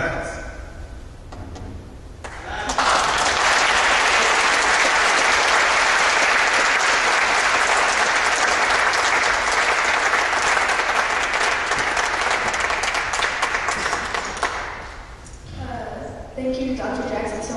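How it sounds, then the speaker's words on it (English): Audience applause after a university lecture on Islam and race, a dense, sustained wash of clapping that swells in abruptly, holds steady for about twelve seconds, then fades as a speaker's voice returns near the end. "Can we give one more round of applause for Dr. Jackson?"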